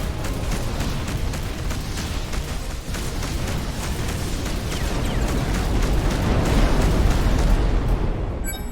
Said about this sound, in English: Firing a nuke.